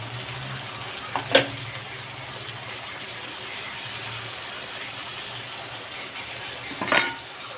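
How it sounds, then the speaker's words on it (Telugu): Spices and masala frying in a pan give a steady close sizzle throughout, with two brief clinks or scrapes from stirring, one early and one near the end. "ఇప్పుడు ఇవన్నీ బాగా వేగిన తర్వాత మనం మసాలాలు మొత్తానికి వేసేస్తున్నాము"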